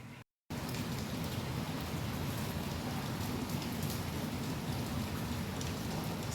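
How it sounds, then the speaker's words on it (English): Steady rain falling continuously during a hurricane-related storm, a dense even hiss of drops after a brief cutout at the start, with no voices. "it is still continuously raining"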